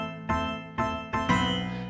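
Four bright, twangy synthesized harpsichord plucks sound in quick succession, each ringing briefly with a rich, metallic tone.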